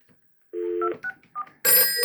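A 1949 Western Electric Bell System 302 desk telephone takes an incoming call, with a few short tones first and then its loud electromechanical bell ringing in a sustained, bright burst that cuts off near the end.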